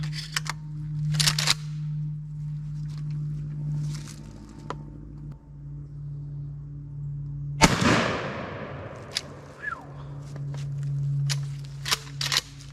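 A shotgun fires a single Federal TSS number 7 turkey load at a 30-yard target, one sharp loud blast with a ringing decay, set amid a steady low hum and scattered handling clicks.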